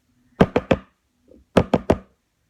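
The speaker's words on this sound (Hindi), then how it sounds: "दरवाजे पर एक दस्तक हुई" Two sets of three sharp, close knocks on a door, separated by a brief pause with a faint soft sound between them, clear against near silence.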